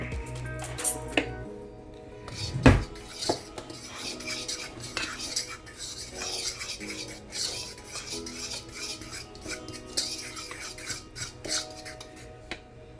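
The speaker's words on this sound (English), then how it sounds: "We're going to stir that together really good." Flour, baking powder and salt for a peach cobbler stirred together in a bowl: steady scraping and rubbing strokes with a sharp clink near the start, close and moderately loud, with no talking.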